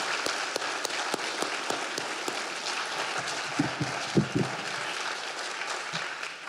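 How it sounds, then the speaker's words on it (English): Steady applause from the audience honoring seniors at a high school senior awards night, a broad even wash of clapping with a few sharper claps and faint low voices near the end. "How about another round of our applause for our honored seniors?"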